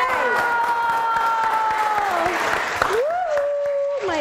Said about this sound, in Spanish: aplauso para Mayrita